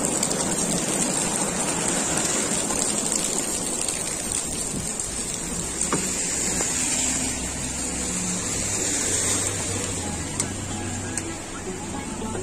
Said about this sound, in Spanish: Tuvimos que pedir taxi porque la lluvia está bastante, bastante fuerte.